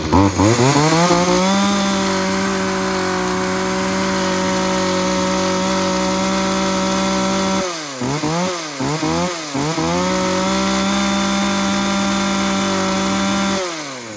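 A used Japanese chainsaw, Stihl, Echo or Shindaiwa, runs on a test start, holding a loud steady high whine close by, then throttling down to choppy sputters and revving back up before cutting off.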